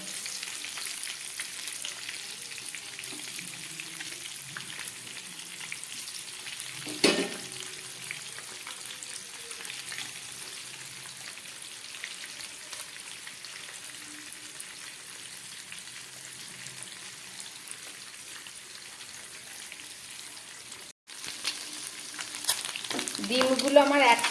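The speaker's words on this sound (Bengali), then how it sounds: "এবার এই তেলের মধ্যে আমি ডিমগুলোকে ভেজে নিচ্ছি" Cut hard-boiled eggs fry in salted oil left from frying onions, giving a steady soft sizzle with occasional stirring scrapes, a sharper clatter partway through, and louder spatter near the end.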